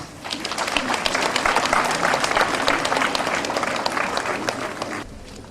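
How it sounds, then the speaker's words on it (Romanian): A crowd at a school last-bell ceremony in Sculeni, Moldova applauds enthusiastically with dense clapping that holds steady for several seconds, then cuts off abruptly near the end. "Aplauze, Furtuna!"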